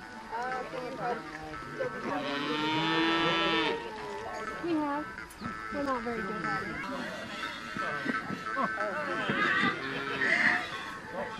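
Cattle at a livestock milking competition give several drawn-out moos, one long low call near the start and shorter ones later, heard amid crowd noise and nearby talk.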